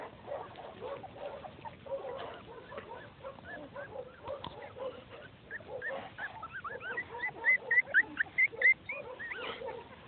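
Three-week-old Welsh puppies whimper and squeal in a steady, overlapping chorus, with thin high cries rising toward the end, heard outdoors at sunset with no talking.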